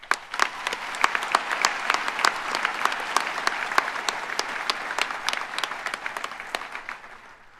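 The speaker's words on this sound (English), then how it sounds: "So an applause first." A room of people at a college convocation claps steadily for several seconds, the applause fading out toward the end.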